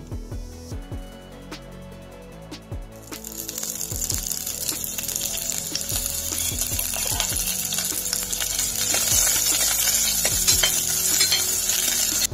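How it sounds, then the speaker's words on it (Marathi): Loud crackling sizzle of garlic hitting hot oil in a heated pressure cooker for tempering, building and staying steady, with metallic clinks and stirring scrapes throughout. "आता आपण फोडणी देऊया लसणीची"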